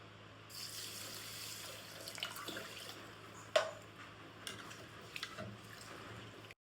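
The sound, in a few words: washing rice grains in water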